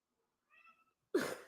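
A cat gives a single soft, drawn-out meow, faint and somewhat distant, followed by a sudden louder burst of broadband rustle or noise.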